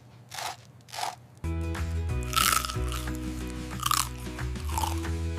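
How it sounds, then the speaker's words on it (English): Crunchy buttered toast being bitten and chewed, a few sharp crisp crunches standing out over a steady background of music, close and fairly loud. "This food is crunchy."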